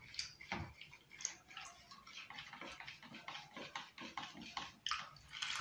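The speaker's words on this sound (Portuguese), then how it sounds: "Só mistura na água aqui para dissolver bem o fermento." A spoon stirs yeast into water in a bowl while Italian-style bread is being made, giving a quick run of close, light clinks and swishes with no talking.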